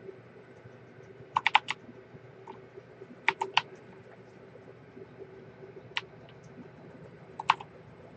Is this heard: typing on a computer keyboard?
yes